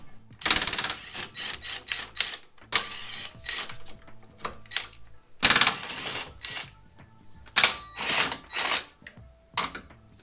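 13mm sway bar bolts on a BMW E90 are undone with a ratchet, giving bursts of rapid clicking and metallic rattling separated by short pauses, close and fairly loud.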